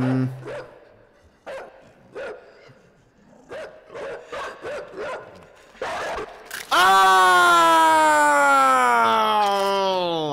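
A dog in the side-scrolling game Inside gives a series of sharp, separate barks at an uneven rhythm. A loud, rising, siren-like wail then cuts in and drowns everything else out.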